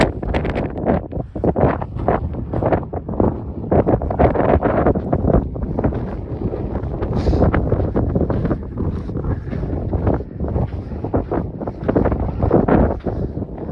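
Strong wind buffets the microphone in loud, continuous roaring gusts that barely let up, on a mountain trail near Trail Crest on Mount Whitney.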